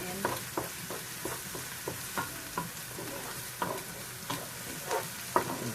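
Onions brown in a frying pan for lamb curry, a constant close sizzle broken by regular knocks and scrapes of a spoon stirring them about every half second.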